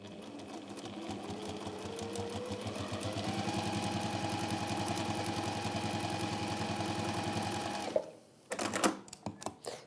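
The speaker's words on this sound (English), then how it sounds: "when you have got that finally stitched, because you've stopped messing around with your machine, go in and top stitch." A sewing machine top stitches a pouch in a steady run of about eight seconds, picking up speed slightly before it stops, followed by a few clicks and handling sounds.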